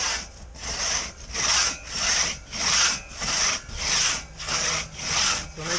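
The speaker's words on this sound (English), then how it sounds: "That's why we use aluminum, so it doesn't hurt the saw." A hand saw cuts through aluminum in a steady back-and-forth rhythm, about eight rasping strokes rising and falling, close and loud with no talking.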